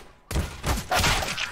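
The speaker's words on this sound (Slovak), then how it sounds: "strieľa asi len tak, náhodou" Gunfire in Counter-Strike: Global Offensive on the Inferno map, a burst of rapid shots starting abruptly after a brief quiet and continuing loud and dense to the end.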